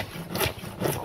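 A hand saw works through a wooden board being made into a chopping board, giving two rasping back-and-forth strokes at close range within about a second.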